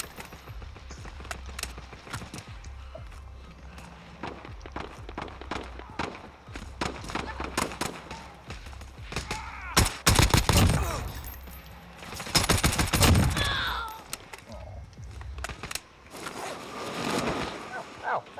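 Gunfire in Call of Duty: Warzone, with bursts of automatic fire and single shots, some distant and some close, getting louder and denser midway, alongside in-game noise and occasional voices.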